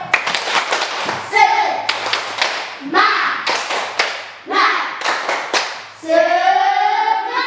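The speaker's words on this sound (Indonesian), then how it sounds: "Kita tepuk semangat dulu, ayo." A classroom of schoolchildren does a rhythmic spirit clap, with sharp hand claps striking in a steady chant-like pattern as young voices call out along with the beat.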